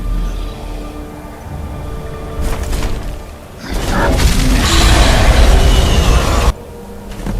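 A dragon's Thu'um shout in the Skyrim video game rises into a loud, roaring rush with a whoosh and a crash-like sweep, and it cuts off abruptly. No talking is heard.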